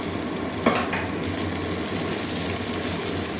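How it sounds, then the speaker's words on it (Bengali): Chopped onion and green chili frying in hot oil, a steady close sizzle with one sharp clink of a utensil against the pan early on, and no talk. "কাঁচা লঙ্কা পেঁয়াজ দিয়ে ভাজবো"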